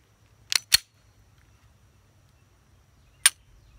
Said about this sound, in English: you just have to manually work the slide